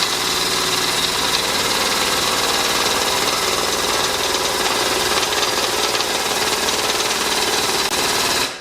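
A Harbor Freight air-over-hydraulic ram runs in a workshop, putting out a loud, continuous pneumatic rattling drone with a steady pulsing vibration that holds level for about eight seconds and then cuts off.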